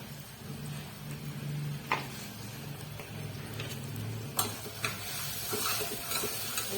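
Spices such as turmeric, salt, black chili powder and garam masala being stir-fried in a pan for khichdi, a soft continuous sizzle broken by a few sharp clinks and scrapes of a spoon against the pan.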